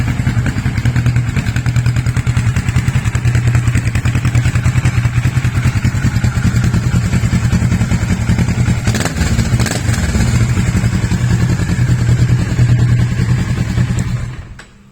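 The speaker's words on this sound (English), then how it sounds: "This is how beautiful the exhaust sounds like." A 2015 Kawasaki ER6N, a 650cc parallel-twin motorcycle with 71 bhp, runs with a loud, steady exhaust note close by, holding an even idle-like rumble for most of the clip before cutting off at the end.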